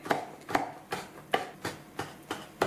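A knife chops grated potato against a cutting board in a home kitchen while making vegetable soup: about seven crisp, evenly spaced chops, close and fairly quiet, with no talk.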